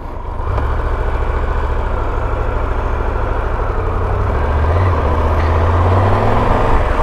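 A Triumph Tiger 1200 motorcycle engine holds a loud, steady low rumble at close range through a slow U-turn, its throttle note wavering slightly with no talk over it.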